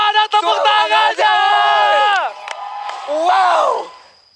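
Live esports crowd at a Mobile Legends-style match between RRQ Hoshi and Alter Ego, cheering and whooping in loud sustained bursts, with a brief lull before a second swell of shouting.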